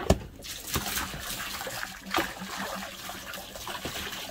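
Water runs from a kinked garden hose into a motor home's tank, a steady low trickle and splash with a few sharp knocks and clunks near the start.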